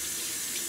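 Water streams steadily from a kitchen tap into a sink during meal-prep washing, a continuous close hiss and splash with no break in the flow.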